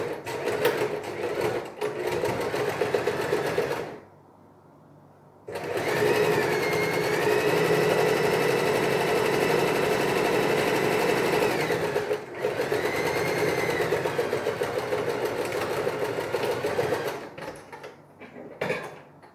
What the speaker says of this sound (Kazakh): Осыны тігіп шығамыз.